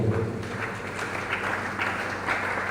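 Steady clapping from an audience at a diocesan health assembly, a dense continuous patter of many hands that stays fairly even throughout with small swells, heard alone without voices.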